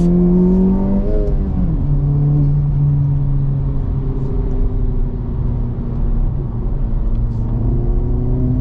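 An engine from a 2024 Acura Integra Type S or 2023 Honda Civic Type R drones loudly from inside the car. The pitch dips at a gear change, then climbs steadily as the car pulls harder.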